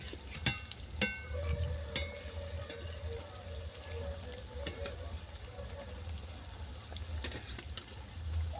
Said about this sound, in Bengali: এরপর ছোটো ছোটো বড়ার মতো করে আমি ভেজে নেব